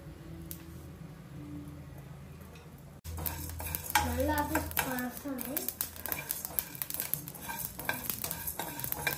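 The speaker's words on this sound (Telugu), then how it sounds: "ఇలాచి, లవంగ, దాల్చిన చెక్క. వీటిని మంచిగా రెడ్గా స్మెల్ వచ్చేదాకా వేపుకుందాం." Cardamom, cloves and cinnamon fry dry in a pan, a low sizzle first, then louder scraping and clinking as the spices are stirred, while someone talks over them.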